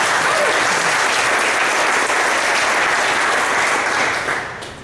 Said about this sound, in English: let's give a round of applause for Develop Denver.